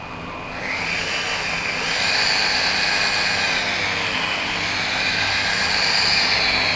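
A rotary polisher works compound into its pad during repair of sandpaper scratches, making a loud, steady motor whine that rises slightly as the tool spins up, then holds even throughout, with no speech.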